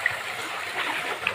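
River water in the Konkan flows and trickles steadily close by, a soft continuous burble with a few small splashes and no voices.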